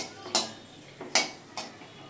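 Whole cinnamon, cloves and cardamom being stirred in a hot pan for malai chicken, three distinct clinks of a spatula against the pan over a quiet frying hiss.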